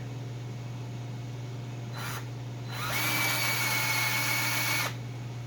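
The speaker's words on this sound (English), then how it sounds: "Then let's drill these bigger." A power drill whirs briefly, pauses, then runs steadily at high speed for about two seconds before stopping, enlarging holes, over a low constant hum.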